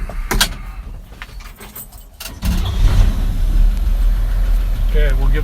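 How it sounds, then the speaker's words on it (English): A 1953 Chevy truck engine cranks and catches after some clicks and rattles, then settles into a loud, steady idle close by, with a faint squeak near the end. "fire her up here and make sure our wipers work"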